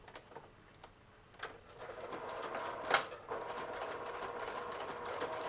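A sewing machine runs close by with a short stitch length, sewing a side pocket seam on joggers. Its quiet whirring stitching rises after a few faint clicks and carries on steadily.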